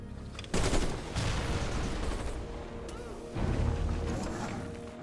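Attack jets strike units in Civilization Beyond Earth with a rapid series of blasts and crashing impacts, two heavy bursts separated by sustained rumbling battle noise.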